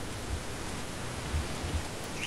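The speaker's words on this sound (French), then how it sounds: "comme c'est beau avec la pluie en plus" Rain falls in a video game setting near a corridor to apartments, a soft, steady hiss of noise with a few faint low thumps, quiet and even throughout.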